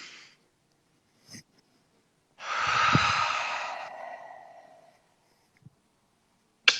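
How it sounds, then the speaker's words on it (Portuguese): A single deep breath, a long audible inhale swelling and then easing off over a few seconds, close and alone in an otherwise quiet space, with a few tiny clicks around it. "uma respiração profunda, não precisa nem fechar o olho, mas só a respiração já restabelece"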